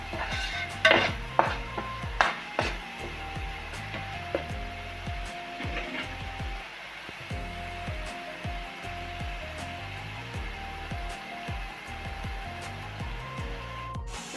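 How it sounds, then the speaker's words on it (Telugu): A coconut, ginger and onion paste is stirred in a pan for an Andhra-style fish curry. A spoon scrapes in steady, rhythmic strokes over a soft sizzle, with a few sharper knocks against the pan at the start. "కొబ్బరి అల్లం చిల్లిపాయ పేస్ట్ని ఇట్లా బాగా మద్దలిద్దాం"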